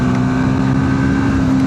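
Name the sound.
Triumph Speed 400 motorcycle engine accelerating while riding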